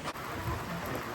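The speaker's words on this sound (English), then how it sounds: "it's raining pretty hard right now. Maybe you can hear it on the roof." Heavy rain drums steadily on a shelter roof along the Appalachian Trail, with a dense, continuous patter and a deep rumble of thunder underneath.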